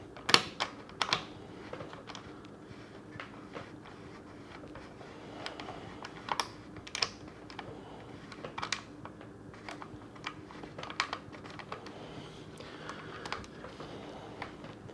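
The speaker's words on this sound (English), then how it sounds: "And we'll start screwing that axle in." An electric bike wheel axle is screwed into place by hand, giving a string of small, sharp clicks and ticks at irregular intervals, close but fairly quiet.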